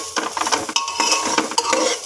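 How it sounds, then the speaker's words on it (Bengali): Red lentils frying in a pan with salt and turmeric are stirred with a spoon, giving repeated scraping strokes over a steady sizzle, close and fairly loud, with no voices. "আমি 1 চামচ লবণ, 1/2 চামচ হলুদ দিয়ে এটা একটু নেড়ে দেবো"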